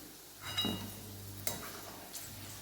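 Okra frying in oil in a pan: a faint, soft sizzle punctuated by a few sharp clinks and scraping stirs, quiet and close with no voices.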